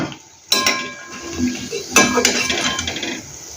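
Fried lentil fritters (garelu) tipped from a pan into a metal strainer, giving a sudden loud clatter of metal and clinks, then a second burst of rattling and scraping that tapers into lighter clinking.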